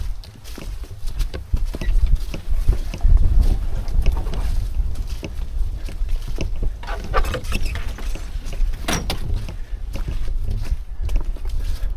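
Wind blowing steadily along a wilderness canoe-portage trail in the Boundary Waters, a broad rushing noise with gusty swells, close to the microphone and buffeting it, with faint knocks and footsteps underneath.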